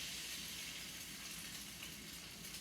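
Egg frying in a hot frying pan gives a steady, faint sizzling hiss that holds constant without breaks.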